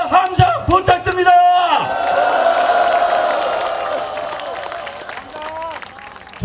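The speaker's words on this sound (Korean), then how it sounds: "커다란 박수와 함성 부탁드립니다" Outdoor political rally crowd for NIS reform and restoring democracy in Daejeon, loud cheering and shouting from a large gathering that swells into sustained applause and roaring, then slowly fades, with voices prominent.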